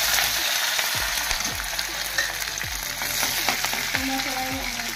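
Chopped ginger and green chilli sizzle in hot oil for Bengali-style khichuri, a steady loud frying hiss throughout with occasional soft stirring scrapes, no voices.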